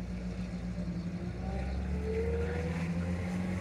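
A Trabant Model X Kübel drives along, its engine giving a steady low drone with a faint rising whine heard from inside the car.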